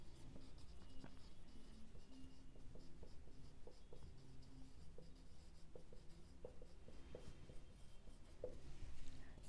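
Marker or chalk writing on a board during a 12th-grade commerce accounts lecture, a steady scratchy scribble of short strokes and taps running throughout at close range, with no talk over it.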